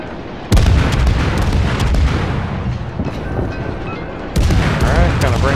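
Naval gunfire from the destroyer Mahan in World of Warships, heavy booming salvos over a loud continuous rumble, with a second blast near the end and faint background noise.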